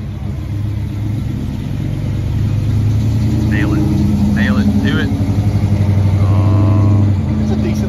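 A 1967 car with a 340 engine idles and revs at a pre-race drag racing event, a loud steady rumble that swells midway, while people talk over it.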